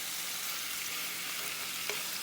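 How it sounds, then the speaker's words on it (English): Chicken sears in a hot pan on the stovetop with a steady, close hiss and crackle of sizzling, unbroken and free of talk. "I'm going to go ahead and sear this on both sides"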